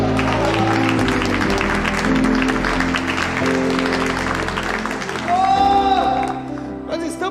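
Church congregation clapping for the Lord during a service, a continuous mass of applause over sustained music, with a voice calling out near the end as the sound swells.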